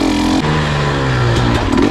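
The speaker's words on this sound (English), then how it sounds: "Second gear, just consistent throttle, and it goes right over it." A dirt bike on an enduro cross track revs hard in second gear under steady throttle as it climbs over a log; a loud, close engine note rises and falls with clattering bursts.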